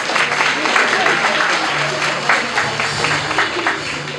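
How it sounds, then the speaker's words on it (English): Graduates at a graduation ceremony clap for themselves, a sustained, moderately loud patter of many hands with crowd murmur and voices mixed in. "Clap for yourself."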